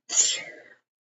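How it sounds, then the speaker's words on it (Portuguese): A single sneeze bursts out at close range, sharp and breathy at the start and trailing off quickly, alone with no talking around it. "Nossa, vou espirrar"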